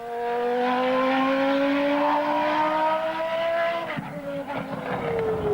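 A 1991 Williams Formula One car circles a wet track on cautious early laps, its high-pitched engine droning loud and close with rising revs, then easing off near the end as the pitch drops.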